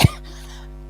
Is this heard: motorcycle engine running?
no